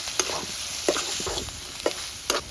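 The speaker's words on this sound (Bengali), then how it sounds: "নারিকেল আর চিংড়ি মাছটাও ভাজা হয়ে গেছে" Shrimp and coconut paste frying in a pan, a soft sizzle punctuated by four or five sharp stirring scrapes at irregular intervals, fairly quiet and with no voices.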